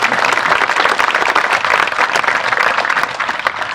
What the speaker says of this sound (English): If we all would just give him a brief round of applause as he takes the stage.